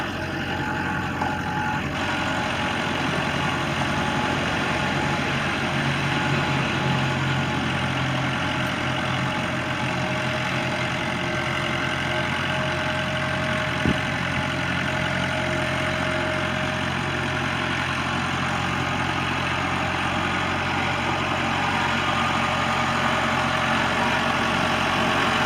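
A 1990 Case 585 tractor with a 60-horsepower diesel engine idles steadily, a loud, close, continuous rumbling hum with no talking.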